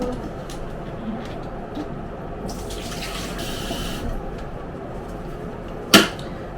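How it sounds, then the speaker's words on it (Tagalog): Tap water runs into a sink while a pan is rinsed, a steady faucet hiss with a short burst of heavier splashing midway and a sharp knock of the pan near the end. "Bigyan ko lang ng tubig to pero gagamitin ko itong pan na to mamaya."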